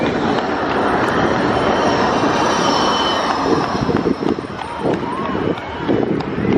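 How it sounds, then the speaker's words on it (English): A Fleetwood Ferry tram rolls past along the Blackpool promenade, a loud, close, steady rumble of wheels and motor filling the air, with a voice speaking briefly toward the end. "And there we go, the Fleetwood Ferry tram there."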